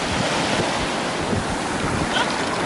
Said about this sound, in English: we are out here at the St. Augustine Beach